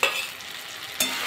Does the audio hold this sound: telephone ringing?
no